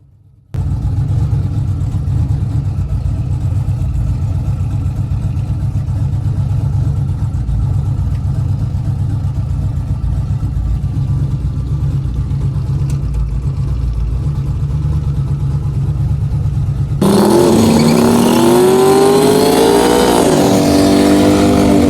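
Race car with an LS engine idles loudly and steadily at a North Carolina drag strip on a quiet Friday night, then abruptly roars into a hard, rising full-throttle launch for the last few seconds.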